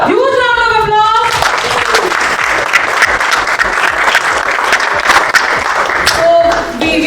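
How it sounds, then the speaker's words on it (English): Loud, sustained applause from a large audience at a corporate company event, dense steady clapping throughout with a voice over it at the start and brief cheering. "Huge round of applause."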